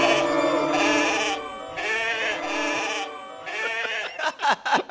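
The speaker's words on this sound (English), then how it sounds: "Where'd they get the goats?" Several goats bleat loudly in overlapping, wavering cries that come in three long bursts, followed by quick shorter bleats at the end.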